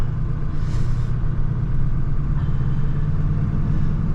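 A roughly 25-year-old car with a low, steady engine rumble heard from inside while driving slowly on a rainy day, the drone holding fairly even with no clear gear change.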